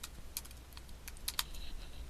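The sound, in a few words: typing a title on a computer keyboard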